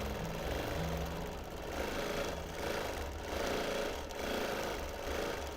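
A sewing machine running free-motion edge-to-edge quilting, its needle mechanism chattering in a steady fast rhythm with slight swells in speed, close and fairly quiet, with no talking.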